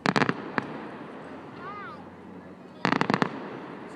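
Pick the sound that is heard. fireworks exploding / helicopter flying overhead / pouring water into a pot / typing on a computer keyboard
fireworks exploding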